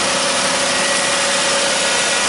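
A 2011 Dodge Journey engine idling after starting with the check engine light on, a loud, steady droning hum with a constant tone, close up and uninterrupted.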